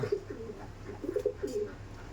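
A female pigeon coos close by in a few soft, low, rolling notes, a brief series of throaty coos over quiet room noise, with no voices.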